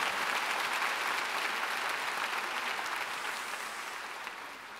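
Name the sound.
congregation applause at a church rally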